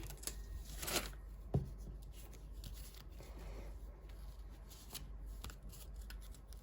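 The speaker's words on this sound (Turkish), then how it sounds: "Evet biz böyle paket açıyoruz." Paper crinkles and rustles as a homemade paper surprise packet is opened by hand, with soft scattered handling sounds and a sharper crackle near the start, quiet and close.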